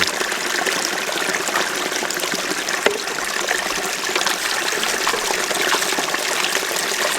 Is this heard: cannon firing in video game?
no